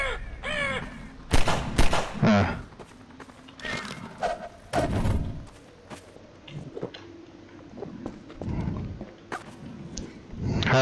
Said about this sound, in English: Oh, look at Crow.